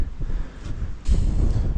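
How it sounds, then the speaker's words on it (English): Strong gusting wind buffets a microphone outdoors near a Kirovets tractor, a steady low roar that surges louder partway through, with no talking. "It's been a week and it's still super windy."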